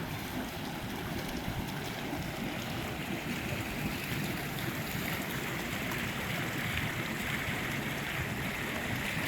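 Water flows steadily into a backyard pool and hot tub at a luxury home, making a continuous, even rush and splash that stays moderately loud and close, with no voices over it.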